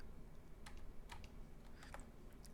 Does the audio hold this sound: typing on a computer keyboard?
yes